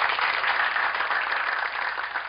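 Applause for teachers in a room rolls on steadily as a dense, even wash of clapping, moderately loud and continuous throughout with no talking.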